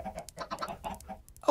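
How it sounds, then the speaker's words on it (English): Chickens in the video game Minecraft cluck in short, quick bursts of clucks and squawks, close and fairly quiet, ending with a louder note. "Chickens."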